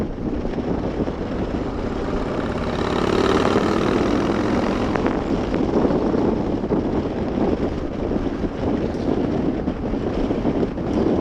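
A 2015 Yamaha Star Raider 1900 Bullet Cowl motorcycle riding at speed, a continuous engine drone mixed with heavy wind rush, swelling slightly as the throttle opens.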